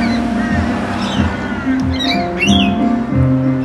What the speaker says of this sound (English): And there with the big flock of rainbow lorikeets.